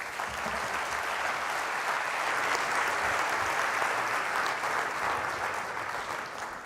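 A conference audience at a wood industry event in South Africa claps after a talk, producing dense, sustained applause that swells slightly mid-way and carries on steadily, with faint crowd murmur underneath.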